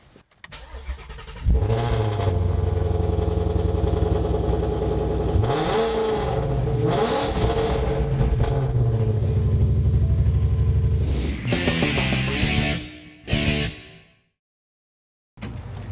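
A raspy classic car engine cranks, starts and revs repeatedly close by, rumbling idle broken by rising throttle blips, then cuts off into silence before a final brief burst.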